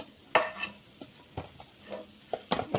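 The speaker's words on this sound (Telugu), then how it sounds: "ఈ బ్రెడ్ స్లైసెస్ మనం కట్ చేసి పెట్టుకున్నాం కదా, దాన్ని ఫ్రై చేసుకోవాలి" Bread slices frying in a pan until golden brown for bread halwa, with a soft sizzle and sharp clinks and scrapes of stirring or turning in the pan, close and uneven.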